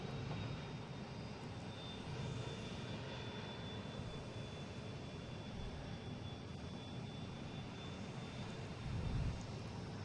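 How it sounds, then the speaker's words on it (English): A Cessna Citation private jet at Boston Logan International Airport gives a steady, broad engine roar with a thin high whine, fairly distant and constant throughout. "There is a Cessna Citation going to Cleveland, a private owner."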